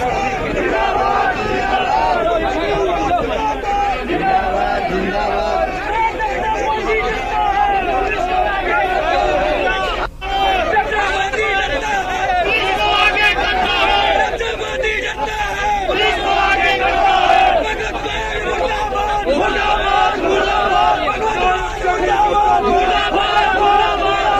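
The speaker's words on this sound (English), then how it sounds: "A large crowd gathered near Church Square in Panaji to protest against a controversial section of the" A large protest crowd gathers near Church Square in Panaji against a section of the TCP Act, shouting and chanting continuously with dense, loud voices and a steady roar of mixed yelling throughout.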